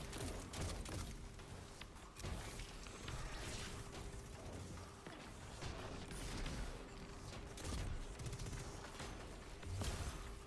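Gunfire in Destiny 2 crackles in scattered bursts and rapid volleys, mixed with mechanical clatter and a faint steady tone underneath, with no speech.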